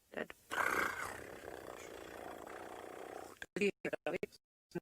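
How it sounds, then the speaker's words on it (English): A wild elephant in Kenya at sunset gives a low, sustained rumble lasting about three seconds, followed by a few brief, choppy bursts of sound. "the elephant that we're talking about actually gave off a bit of a rumble"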